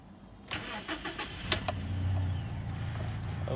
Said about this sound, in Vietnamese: Trước khi vào phần khoang máy thì sẽ để máy lên.